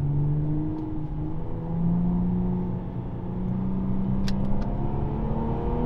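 An Infiniti Q60 accelerates on the road, its engine drone rising and falling through gear changes with steady road and cabin noise, heard from inside.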